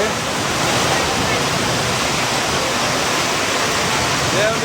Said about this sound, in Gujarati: ભારે વરસાદનું ચાલુ થઈ ગયો છે